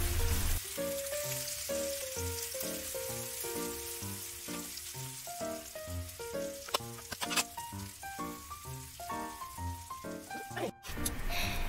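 Rolled Japanese egg omelette with pea shoots tucked inside cooks in a pan, a steady close sizzle running throughout beneath a voice talking, with a few clattering knocks near the end.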